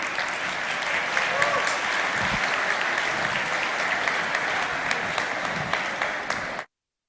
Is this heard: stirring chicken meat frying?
no